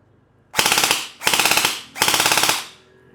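Three long bursts of rapid full-auto fire from an ENC 645 airsoft gun, each lasting about half a second with short pauses between, loud and close.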